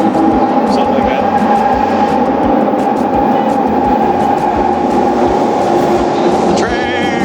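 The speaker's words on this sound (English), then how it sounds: "The train!" A train arriving at a station in Japan rumbles steadily and loudly with a low mechanical roar, and faint voices sit underneath the noise.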